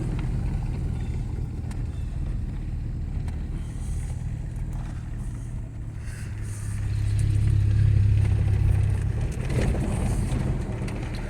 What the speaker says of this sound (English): I'm currently in second gear.